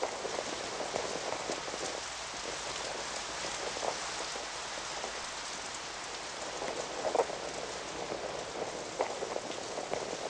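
Steady rain falling on a surface, a dense even patter with occasional louder drops, no voices.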